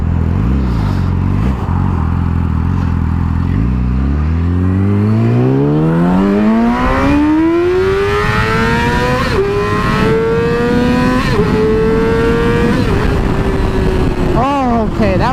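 Yamaha R6 sport motorcycle accelerating at wide-open throttle, its engine note climbing steadily through the revs with brief dips at gear changes, loud and close throughout, with a rider speaking over the start.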